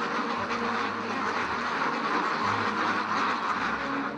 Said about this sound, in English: you can hear the quacking and the squawking in the background.